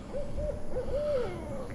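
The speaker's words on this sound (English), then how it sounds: "The big owl is waking up." A big owl hoots beside a small creek, a few low, wavering calls in a short series, fairly close over steady outdoor water and background noise.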